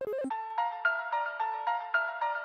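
A theme from the Undertale sound test in a video game, a sparse, eerie electronic melody of repeating bell-like synth notes in a slow, steady pulse after a brief flurry of short blips, no voices.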